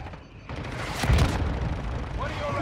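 A mortar strike explodes in the mobile shooter Warzone Mobile on Rebirth Island, a single heavy close boom swelling after a short lead-in, with rumbling debris after it and a player shouting over it.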